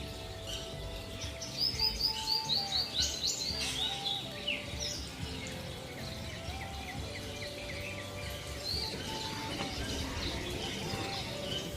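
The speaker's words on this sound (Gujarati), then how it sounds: "આમ કોયલનો મધુર અવાજ પણ સંભળાઈ રહ્યો છે" Morning birdsong with a koel among other birds: repeated chirps and whistled calls, some near and clear, others fainter in the background, forming a steady dawn chorus.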